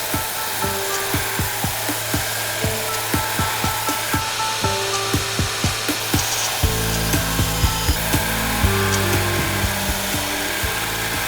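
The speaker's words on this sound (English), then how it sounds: "So now I can start grinding the bevels." Power grinder working the bevels of a Damascus steel knife blade forged from a lawnmower blade and a sawblade, a steady rhythmic series of grinding strokes that grows louder and denser halfway through.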